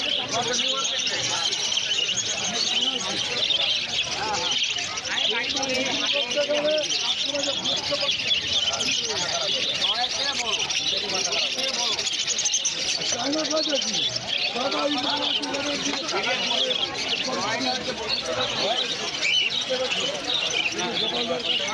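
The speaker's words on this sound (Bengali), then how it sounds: "এখানে দেখতে পাচ্ছেন লুটিনো ককটেল আছে অ্যাডাল 2200 টাকা করে পেয়ার আছে" Lutino cockatiels in a bird shop give a steady, dense chorus of bright chirps and calls throughout, with someone talking over the birds.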